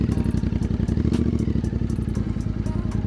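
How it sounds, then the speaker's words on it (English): A Royal Enfield Interceptor 650 twin fitted with an Enfield Precision exhaust idles and burbles close up, a steady rhythmic low thumping pulse with a deep harmonic exhaust note and no talking. "the Enfield Precision system delivers a rich harmonic sound with genuine acoustic depth"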